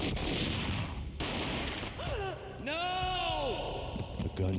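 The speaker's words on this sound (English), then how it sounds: "A gunshot boomed and she fell down in slow motion" Gunfire from the video game Max Payne cracks in sharp bursts, close and loud, while a voice gasps and cries out in between the shots.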